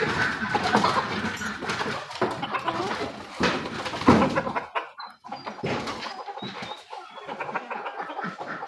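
Newly hatched chicks and hens on a deshi duck and chicken farm, clucking and peeping close by in a steady busy chorus, with occasional thin higher chirps standing out.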